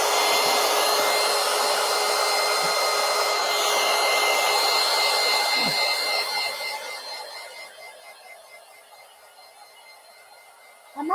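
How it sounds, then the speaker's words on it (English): Heat gun blowing hot air over glued collage paper, with a steady, close whirring blast that runs for about six seconds, then fades as it powers down and ends with a faint click. "Ruth, heat gun."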